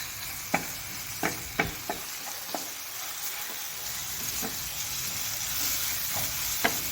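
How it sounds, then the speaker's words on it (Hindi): Onions fry over a low flame toward light brown, a soft continuous sizzle broken by a handful of sharp spoon taps and scrapes, close and fairly quiet, with no speech. "प्याज को हम बिल्कुल लाइट सा ब्राउन करेंगे इसमें।"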